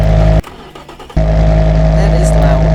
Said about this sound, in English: I'm gonna make the engine really smooth, but first, I'm gonna listen to it.